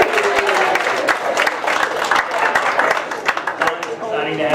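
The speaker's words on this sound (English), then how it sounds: "can we just cheer, high-five?" A church audience cheers and applauds at a community chamber celebration, a continuous wash of clapping and crowd voices with talk mixed in.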